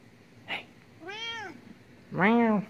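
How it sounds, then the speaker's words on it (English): A cat meows twice, drawn-out and fairly loud, the second louder, after a short faint chirp at the start. "Meow. Meow."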